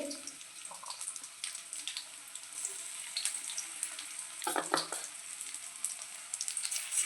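Cauliflower pakoras fry in hot oil with a soft, continuous crackling sizzle at close range, punctuated by a few brief bursts of bubbling as the pieces are stirred.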